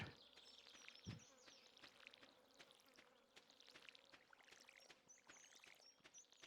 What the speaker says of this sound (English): Why do I keep hearing bees? Summer sounds. The summer sounds of bees.